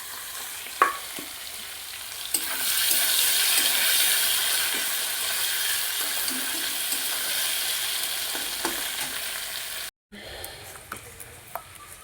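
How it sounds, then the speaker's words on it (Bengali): Soybean chunks fry in a pan for a vegetable curry, a steady broad sizzle running throughout with a few sharp clinks of utensils and a brief cut near the end. "সয়াবিন ভাজা হয়েছে।"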